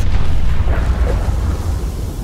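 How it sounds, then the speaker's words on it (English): A loud sustained explosion rumble in the video game Guardians of the Galaxy, a dense low roar filling the whole stretch with no distinct onset or pauses. "And kaboom!"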